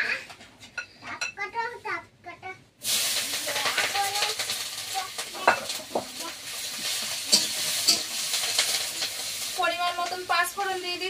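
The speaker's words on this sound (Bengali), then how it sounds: "এবার তরকারি রান্না করার জন্য প্রথমে পেঁয়াজ কাঁচা লঙ্কা দিয়ে দেবো" Onion and green chili hitting hot oil in a pan for a fish curry, sizzling loudly after a brief quiet start, with a child and an adult talking over the frying.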